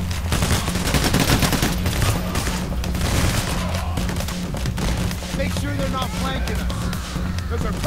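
Sustained enemy gunfire rattles through a Payday: The Heist firefight, dense overlapping bursts of automatic and single shots crackling nonstop, loud and close, with no talk over it.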